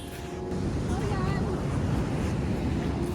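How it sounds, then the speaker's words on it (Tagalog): Strong ocean waves at Dinadiawan Beach in Dipaculao, Aurora, a continuous heavy roar of surf mixed with gusty wind buffeting the microphone, loud and close throughout. "Lakas ng alon, no?"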